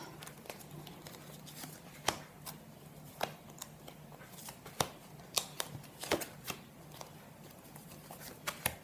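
Tarot cards being shuffled and drawn, a soft steady patter of card edges broken by sharper flicks and snaps at irregular intervals, close and fairly quiet with no talking.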